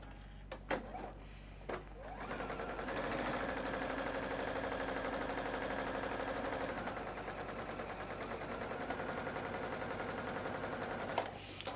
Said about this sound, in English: Make sure I got the right seam allowance going into the machine.